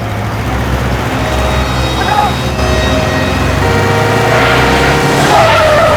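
A motorbike skids loudly on a road, a sustained tire squeal with engine noise that holds for several seconds, and voices sound over it.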